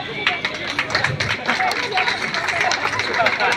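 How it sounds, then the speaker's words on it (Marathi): Audience applause at a police sports competition closing ceremony in Jalgaon, a steady patter of many hands clapping with crowd babble mixed in, sustained and fairly close throughout. "आपण पुन्हा त्यांच्यासाठी टाळ्या वाजूया"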